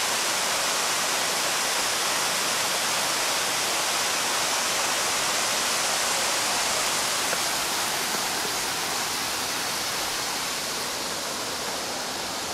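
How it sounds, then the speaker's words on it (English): A waterfall in Charleston roars as a dense, continuous broadband rush of falling water, loud and unbroken from start to finish with no other sounds. "it sounds very pretty, isn't it, with the sound of the waterfall"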